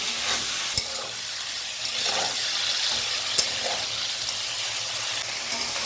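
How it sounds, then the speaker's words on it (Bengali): Prawns fry lightly in hot oil with a continuous close sizzle and bubbling hiss, broken by a couple of sharp taps from a utensil. "মাছগুলো আমরা ভেজে নেব। বেশি কড়া ভাজবো না, চিংড়ি মাছ কড়া ভাজলে শক্ত হয়ে যাবে"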